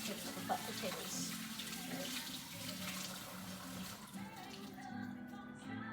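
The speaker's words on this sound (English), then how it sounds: "we're gonna wash our hands" Hands washed under a running kitchen tap while cooking mashed potatoes, a steady close wash of water that continues for several seconds and fades near the end, with faint voices in the background.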